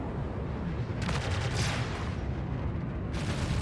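Spaceship weapons firing in Star Citizen, with a dense rumbling roar under rapid bursts of repeated shots that start, pause and start again, fairly loud and close.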